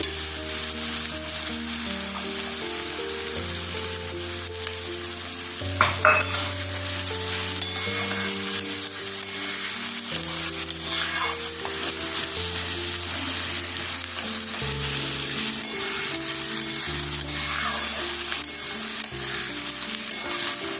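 Onions frying with turmeric and chopped chili in a pan, a steady close sizzle with intermittent stirring scrapes, set against low sustained background music with shifting tones, no speech.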